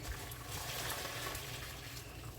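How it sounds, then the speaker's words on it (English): Hot water being poured into a basin while cooking ackee: a steady, soft rush of pouring liquid, continuous and fairly quiet, with no talking. "now I'm just gonna go ahead and pour some hot water"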